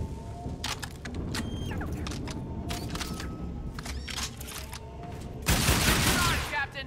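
Video game gunfire from Call of Duty: Infinite Warfare crackles in scattered bursts and single shots over a steady game background, ending in a louder, denser blast near the end.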